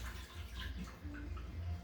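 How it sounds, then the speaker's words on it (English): Water pours steadily from a one-cup measure into a dairy-free, sugar-free coffee ice cream mixture, a soft continuous splash that runs for a couple of seconds with no talking. "we're going to add some water here"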